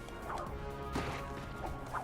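Crates being smashed in the Ratchet and Clank video game, a few quick cracking, wooden-sounding hits scattered over a quiet game background with a low steady hum.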